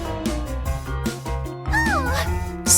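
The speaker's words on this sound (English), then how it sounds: "Silly kitty, go off and play with Sussy or something" A cat meows a few times, up close and brief, mixed with other sounds and busy background noise.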